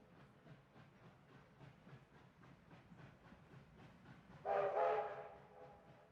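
Train in the A Golden Wake video game: a quiet rhythmic chugging of wheels on track, followed by a louder whistle blast near the end, with no talk.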